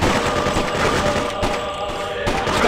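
Gunfire in the Freedom Fighters video game: dense, loud rattling bursts of automatic weapons and scattered shots, continuing over a busy battle din.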